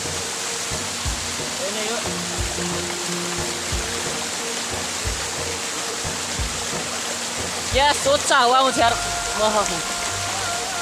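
A mountain waterfall and stream rush in a steady, loud wash of water that fills the whole stretch, while people talk over it and a brief burst of voices rises near the end.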